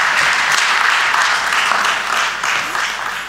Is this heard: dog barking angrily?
no